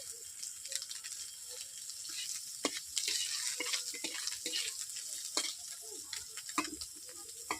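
A dried red chili fries in fish oil with a crackling sizzle and scattered sharp pops and spatula scrapes, close and moderately loud, with no voices.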